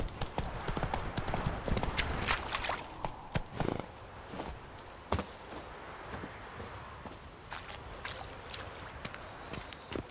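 Horse hooves clip-clop in a steady trotting rhythm in The Witcher 3 on PS4, fairly close, with occasional sharper thuds and a soft background ambience.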